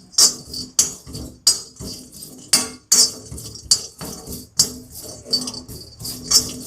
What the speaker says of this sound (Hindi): इसको स्पून की हेल्प से थोड़ा सॉफ्ट कर लेंगे